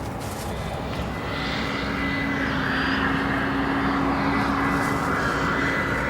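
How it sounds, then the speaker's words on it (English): An American Airlines Boeing 737-800 arrives at O'Hare with a steady jet roar that swells gradually and holds loud, a thin engine tone running through the broadband rush. "we have American Airlines Flight 180, a 737-800"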